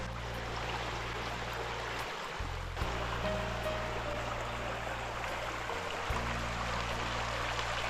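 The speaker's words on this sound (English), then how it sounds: "It's gonna lullaby him to sleep tonight, the gurgling brook." A gurgling brook runs past a riverside campsite in the Porcupine Mountains of Michigan, a steady close wash of flowing water with a faint low hum underneath.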